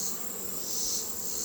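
A dense swarm of honey bees hums steadily and loudly, close by, during a hive inspection of a colony removed from a house, with no pauses and no talk over it.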